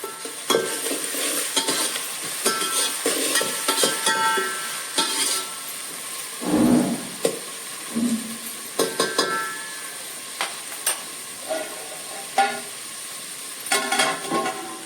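Onions and tomatoes frying in a pan for a village-style chicken curry, a steady sizzle with stirring scrapes and occasional clinks of a utensil against the pan, no talking.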